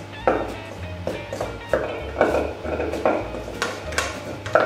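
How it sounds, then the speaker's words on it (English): Butter, flour and salt being combined by hand for Papparoti bun dough, with repeated soft thumps, taps and scraping against a bowl in an uneven rhythm, close and moderately loud, with no talk. "we have to combine the butter and flour and salt."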